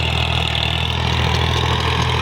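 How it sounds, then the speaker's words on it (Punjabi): A 50 HP tractor engine runs at a steady, loud, close idle-like drone, with a low rumbling throb that stays constant throughout and no talking. "50 HP ਦਾ ਟਰੈਕਟਰ ਆ ਜੀ, ਕੋਈ ਬਹੁਤਾ ਜ਼ਿਆਦਾ ਵੱਡਾ ਨਹੀਂ।"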